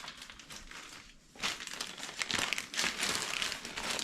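Plastic bag crinkling up close as an aftermarket AFR gauge kit for an SRT-4 is unpacked, a soft rustle that swells into louder, busier crackling handled in short bursts.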